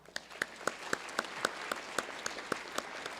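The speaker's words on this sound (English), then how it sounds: "Give her a round of applause" Applause in the Hawaii House of Representatives chamber during a floor session, with distinct claps ringing out over a steady wash of clapping from the members and gallery for roughly three seconds.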